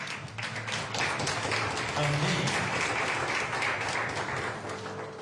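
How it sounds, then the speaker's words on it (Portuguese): A church congregation applauding, a broad wash of clapping that swells and holds, with a voice speaking briefly at the start. "Vamos aplaudir Jesus."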